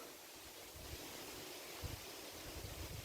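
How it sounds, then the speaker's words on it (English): Steady gusting wind rushing past, with low rumbling buffets against the microphone and a broad hiss throughout. "it's cool and it's windy."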